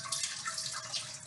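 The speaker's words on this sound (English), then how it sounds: "And we're gonna add a lot of water." Water is poured into a hot oven to make steam for baking baguettes, a soft, brief splashing hiss heard on its own.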